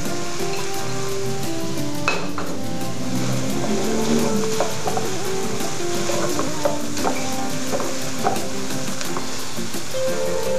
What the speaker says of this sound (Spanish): Después le agregamos la cebolla.